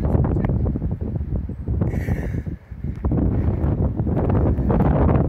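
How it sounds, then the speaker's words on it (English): Loud, blustery wind buffets the microphone in rumbling gusts on a river trail, easing briefly midway before roaring back. "all of a sudden the wind kicks in"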